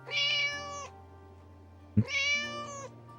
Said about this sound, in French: J'ai juste entendu un miaulement.